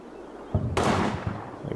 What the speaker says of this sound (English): Our scouts spot a man and decide to take some pot shots.